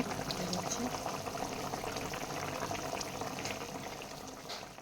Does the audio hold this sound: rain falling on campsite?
no